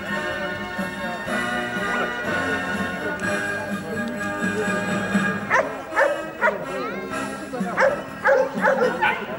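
Dogs yip and bark in short bursts toward the end at a dog show in Banya and Karlovo, Bulgaria, over a busy hall of crowd chatter and an announcer's voice.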